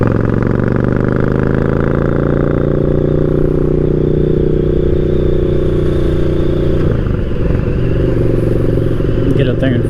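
Motorcycle engine pulling steadily under load and rising in pitch through a gear change, loud and continuous with a brief clatter near the end.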